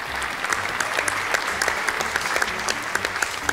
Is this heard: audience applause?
yes